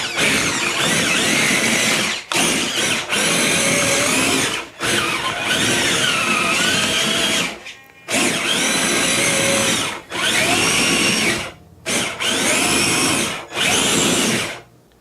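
A Traxxas TRX4 RC crawler on tracks running on a 3S LiPo battery, whining loudly in bursts of several seconds each, with short gaps between runs and no talking.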